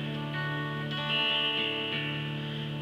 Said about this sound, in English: today I'm going to be playing Amazing Grace